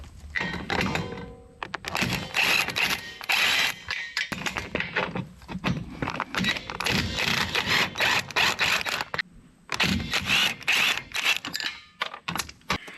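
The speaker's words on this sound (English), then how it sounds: "we're going to remove those bolts with our driver" A power driver with a 9/16-inch socket backs bolts out of a trailer jack, giving close, loud bursts of whirring and rattling separated by brief pauses, with clanks of metal handling.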